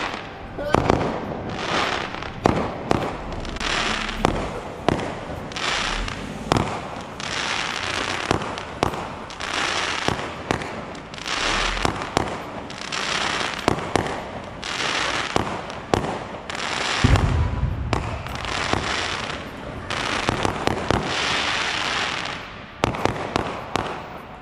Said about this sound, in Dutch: Er is vuurwerk in de dam.